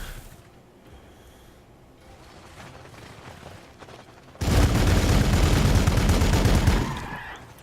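Loud, rapid bursts of gunfire in Warhammer 40,000: Gladius break out suddenly after a quieter stretch of low mechanical rumble, then cut off near the end.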